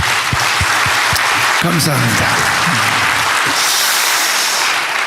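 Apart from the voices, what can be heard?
audience applause at church meeting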